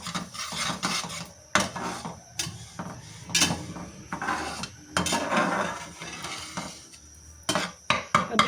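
Sesame seeds scraped and stirred in a dry pan while lightly roasting, giving a steady raspy scratching with repeated sharper spoon-on-metal knocks, close and fairly loud with no talk.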